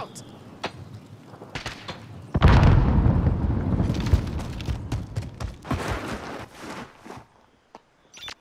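A frag grenade goes off in a first-person shooter, one loud booming blast followed by a rumbling tail and scattered sharp pops and footsteps, with players talking over the action.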